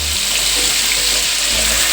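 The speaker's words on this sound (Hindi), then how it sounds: "अब इसमें डालेंगे हम आलू।" Potato chunks for dhaba-style jeera aloo sizzle loudly and continuously in hot oil with cumin, a dense, close frying hiss with no voices.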